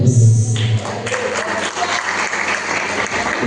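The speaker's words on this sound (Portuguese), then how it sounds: "Aplauda mais forte o nome santo do Senhor" A church congregation claps loudly together, a strong sustained round of applause that fills the space, with a brief low tone at the start.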